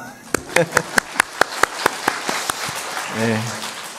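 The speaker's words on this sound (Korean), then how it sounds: "박수 치죠 뭐" A church audience gives applause led by a series of sharp, evenly spaced single claps that grow into a scattered round, and a brief voice enters near the end.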